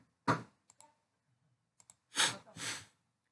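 Computer mouse clicks come close and crisp, a quick scattered series of short clicks, with a couple of louder bursts that may be breaths or handling noise. No one talks.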